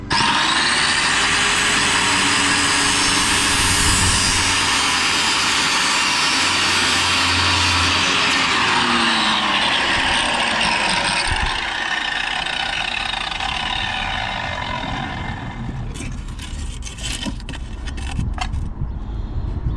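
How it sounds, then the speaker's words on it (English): An angle grinder whines loudly and continuously as it cuts through the end of a buried drainage pipe in a garden, the pitch wavering under load before tapering off into scraping and clatter near the end. "I'm just going to dig around it and then grind it all off so it's ready for a connection"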